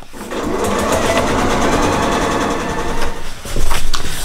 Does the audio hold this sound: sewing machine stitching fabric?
yes